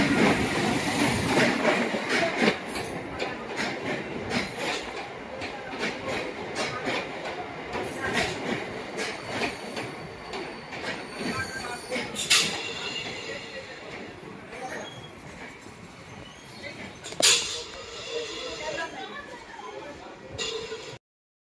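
A passenger train runs on rails with steady rumbling and clickety-clack wheel noise, broken by several sharp bursts and squeals, while people talk over it.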